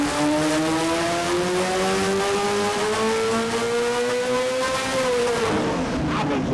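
A McLaren Senna V8 on a dyno running a low-boost map, revving loud and close in one sustained, rising pull that peaks and then drops away near the end, with no talking.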